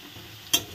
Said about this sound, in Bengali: হলুদ দিয়ে ভালো করে আরেকটু নাড়াচাড়া করে নেব।